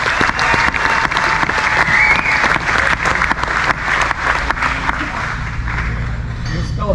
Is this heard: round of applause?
yes